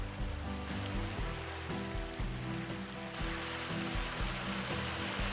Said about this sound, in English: This little river, the Schmaye, runs into the Danube River.